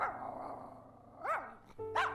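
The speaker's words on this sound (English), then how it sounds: "Max was barking furiously at the window too." A dog named Max barks furiously, a few sharp, loud barks separated by brief pauses, close by and with no talk.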